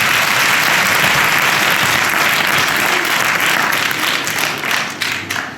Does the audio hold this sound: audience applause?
yes